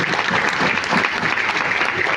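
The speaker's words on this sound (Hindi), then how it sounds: "चलिए सबके लिए जबरदस्त ताली होना चाहिए।" A seminar audience at a direct-selling leader's talk breaks into loud, continuous applause, a dense unbroken patter of many hands throughout.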